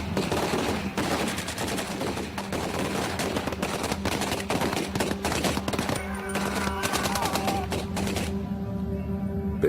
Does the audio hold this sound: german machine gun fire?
yes